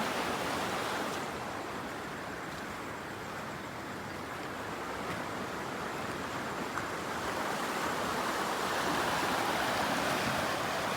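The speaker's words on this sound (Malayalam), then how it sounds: "പുഴ നല്ല കലക്കത്തിൽ വന്നുകൊണ്ടിരിക്കുകയാണ്" A muddy, swollen river near Chooralmala in Wayanad rushes past, making a steady, dense roaring hiss that stays constant throughout with no voices.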